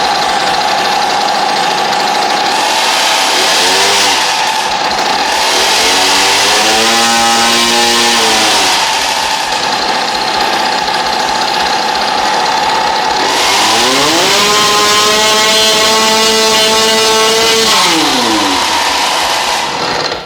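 A Komar Sport moped engine fitted with a Chinese PWK 21 carburetor runs loud and close, revving up and down in two long sweeps over a constant engine drone.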